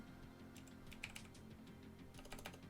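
Faint computer keyboard typing, a quick irregular run of soft key clicks that comes in bursts over a low background hum.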